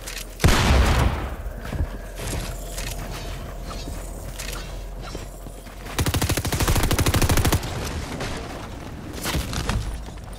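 Video game gunfire crackles in a battle royale-style match, with single sharp shots and a loud opening blast, then a dense rapid burst of automatic fire in the middle, alongside mechanical clicks and rattles.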